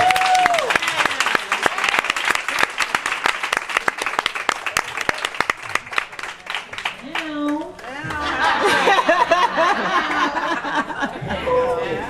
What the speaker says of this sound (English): And we clap and we say thank you